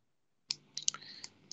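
Computer keyboard keys clicking while a retro game console is emulated on an embedded system. After a short silence comes a brief, faint run of about half a dozen quick, crisp clicks.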